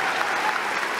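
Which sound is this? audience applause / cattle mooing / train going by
audience applause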